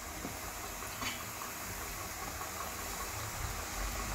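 Flour nimki snacks fry in hot oil in a pan, giving off a steady, even sizzling hiss that fills the whole stretch without pauses, close up, with no voices.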